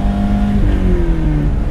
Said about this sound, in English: Listen, about when you hit the clutch to shift,